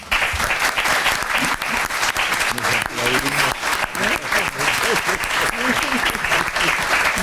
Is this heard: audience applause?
yes